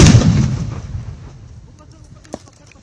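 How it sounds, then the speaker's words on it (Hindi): Controlled detonation of unexploded ordnance at the Line of Control, a single loud blast at the start whose rumbling boom decays over a couple of seconds, followed by a faint sharp crack. "बिल्कुल कंट्रोल्ड डेटोनेशन से उस यूएक्सओ या उस विस्फोटक को पूरी तरह से ध्वस्त कर दिया गया"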